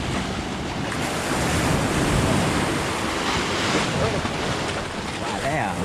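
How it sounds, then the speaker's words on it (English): Sea waves rolling onto Chaweng Beach on Ko Samui, Thailand, a steady loud wash of surf with wind buffeting the microphone throughout. "This is the sea."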